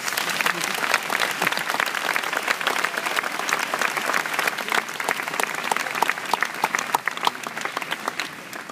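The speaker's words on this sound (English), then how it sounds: "all the parents in the grade deserve a round of applause" A graduation ceremony audience applauding for the parents of the graduating class, producing dense, steady clapping that fills the whole stretch at an even, fairly loud level with no break.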